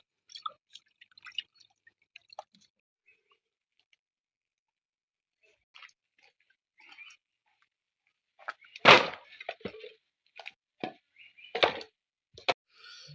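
Freshly cut fish rinsed in water in a home kitchen: scattered soft drips and small plops at first, then a few louder, closer splashes and sloshes toward the end, with no voices.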